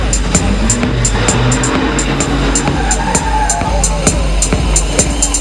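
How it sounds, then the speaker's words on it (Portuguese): A truck drifting at a Portuguese drift championship in São João da Madeira, its engine roaring loudly and continuously with rhythmic tire squeal and skidding close by. "Esses aplausos para o António Lopes, o homem do drift do caminhão"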